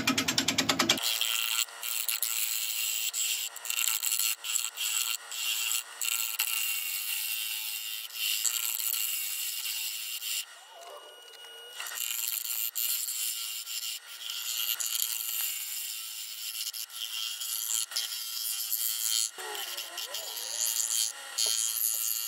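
A woodturning lathe spins a figured chestnut bowl at about 550 rpm while a tool scrapes and shears the wood in a steady, close rasping with a few short breaks and a noisier stretch midway.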